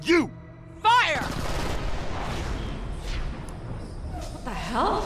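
A firing squad opens up in the Borderlands Pre-Sequel video game, a sustained burst of overlapping gunfire following sharp shouted voices, with more voices rising near the end.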